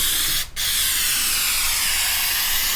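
Close aerosol spray coating on metal rock sliders for a 1997–2006 Jeep TJ, a loud continuous hiss that breaks off briefly near the start and then carries on unbroken, with no talking.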